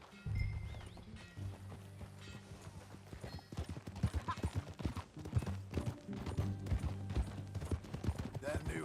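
Horse hooves clip-clop at a trot over a low hum in Red Dead Redemption 2, with a horse snorting and faint voices mixed in, moderately close.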